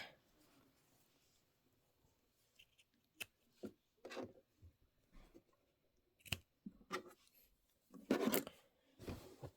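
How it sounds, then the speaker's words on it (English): Scissors snip fabric dog ears off a Kimberbell pumpkins-and-potions sewing embellishment, giving sparse short crisp cuts and rustles in quiet surroundings, with a louder cluster near the end. "I'm going to cut those dog ears as I go just to reduce the bulk"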